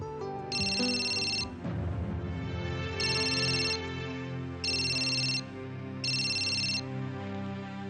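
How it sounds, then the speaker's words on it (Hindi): A phone ringtone plays a bright electronic melody, repeating in four short bursts with pauses between, fairly clear over faint background tones. "जीजू, फोन कर रहा है, उठाइए ना।"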